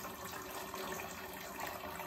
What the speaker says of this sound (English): run water through the system